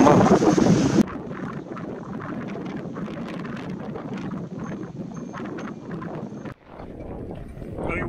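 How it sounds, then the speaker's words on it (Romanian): Strong wind buffets the microphone in heavy gusts on an open goat pasture, a loud continuous roar outdoors that briefly dips near the end before surging again. "bate vântul de rupe"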